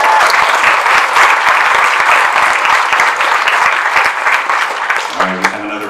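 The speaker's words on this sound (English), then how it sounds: "let's give Darren a round of applause" An audience at a special needs talent showcase claps in steady, dense applause that fills the room and fades near the end.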